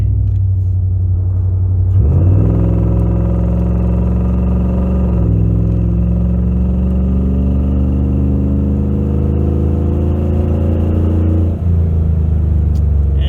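A 2001 Ford E350 Super Duty van engine hums and rises under light throttle, a steady close rumble with gentle revving swells and a gear change.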